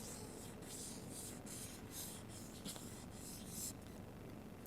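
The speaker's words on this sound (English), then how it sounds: "pick up one of your pens and draw a very loose circle on your page" A pen scratches a loose circle onto a sheet of paper, giving quiet, steady rubbing strokes in a rhythmic series that lasts several seconds, close up with no voices.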